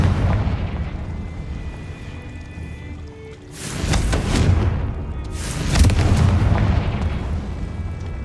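Confringo spell blasts in the Hogwarts Legacy video game go off as two heavy booming explosions about two seconds apart, each a loud rumbling burst that rolls on and fades, over a low droning game background.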